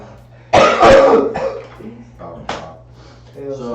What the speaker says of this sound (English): And you'll stop coughing.